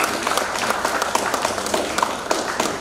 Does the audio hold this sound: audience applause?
yes